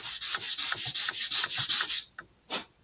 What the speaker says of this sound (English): let's sand a little bit more